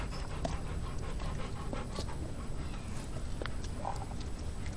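A dog pants rapidly and steadily, close and loud, while being fed steak, with a soft wet chewing texture and occasional small clicks under the continuous breathing.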